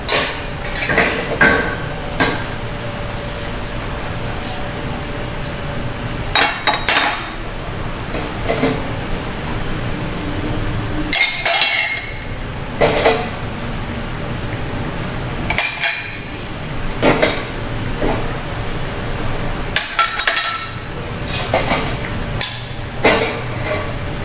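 Repeated clinks and clatters of boiled food items set down on a plate amid steady kitchen background noise, close by, with irregular knocks throughout.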